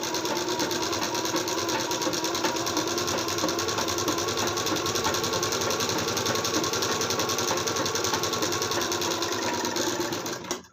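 Sewing machine stitching an embroidered blouse runs steadily and close up for about ten seconds, a fast continuous mechanical whir and clatter with no voices, stopping abruptly at the end.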